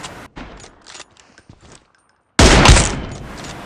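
Sniper rifle fire in the mobile battle royale game BGMI, played on an iPad 9th generation: scattered soft in-game clicks and steps, a brief silence, then one loud, close, booming shot that rings out and slowly decays.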